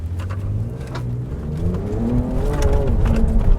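A Ford Ranger Raptor 3.0 V6 pickup accelerating hard, its engine note climbing steadily and growing louder over a few seconds, with rising harmonic tones and a deep rumble, no voices.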